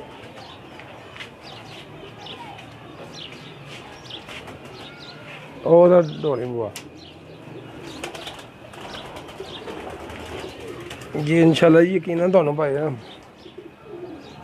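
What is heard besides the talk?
pigeons cooing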